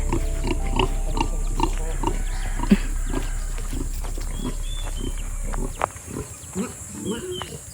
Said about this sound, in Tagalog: cute ng baboy